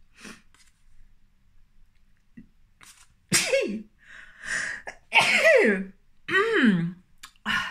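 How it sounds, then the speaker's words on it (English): A person sneezes a few times and sniffs in between, close up, in a mostly quiet room. "because I'm sneezing and sniffing and all that"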